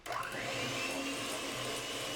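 Electric hand mixer whipping butter with egg yolks in a bowl, a steady high whirring drone throughout with no talk.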